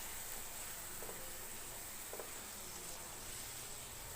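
Onions sauté gently in a pan for a Tamil curd chutney, a faint continuous sizzle and hiss with a couple of soft clicks, quiet and close, with no talking.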